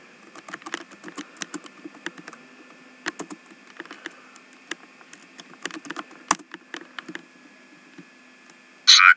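Light, uneven keystrokes tap on a computer keyboard, close and fairly quiet, in scattered bursts over a low background hum, ending with a louder electronic burst.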